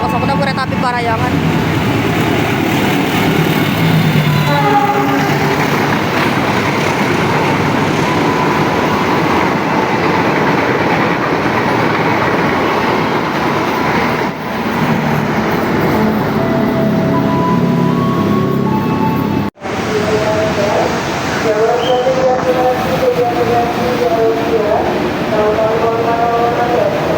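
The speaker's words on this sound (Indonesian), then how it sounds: "Lokomotif CC 206 kereta api Parayangan." An Indonesian CC 206 diesel locomotive hauls the Parahyangan passenger train past, a loud, continuous rumble of engine and rolling wagons with occasional horn-like tones, while a person talks over it.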